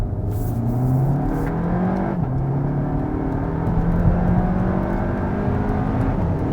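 A Skoda Superb accelerates hard on a twisty, uneven road full of switchbacks. Its engine note climbs steadily in pitch through the gears, strong and close from inside the car, with no talking.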